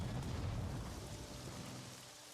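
Rain from the strategy video game Strategic Mind: Fight for Freedom makes a continuous hiss with a low rumble, loudest at the start and easing slightly over the short stretch, with no talk.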